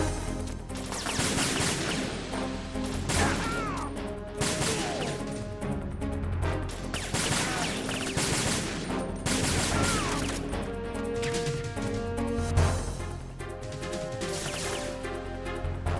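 Gunfire shooting out lights in Metal Gear Solid 2, with repeated shots and smashing crashes over busy game music and effects, loud and continuous throughout.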